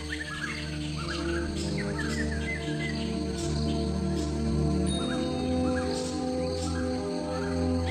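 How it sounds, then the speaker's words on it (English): Colorful birds in a Thai tropical rainforest give scattered chirps and calls over a constant droning chorus of crickets and insects, forming a thick, steady jungle soundscape with no voices. "Tropical rainforests are home to many kinds of colorful birds."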